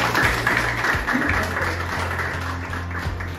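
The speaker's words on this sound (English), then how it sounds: "Let's give a warm round of applause" Warm applause from a summit audience at an International Women's Day event, a steady wash of clapping that holds at an even level throughout, with a faint low hum underneath.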